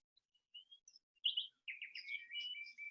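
Birds chirp and warble in spring trees, a run of short bright tweets that swells into a steadier, overlapping song, moderately near with no voices.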